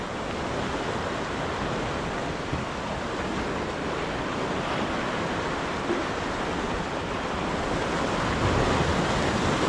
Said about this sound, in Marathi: पाण्याला जबरदस्त टर्ब्युलन्स आहे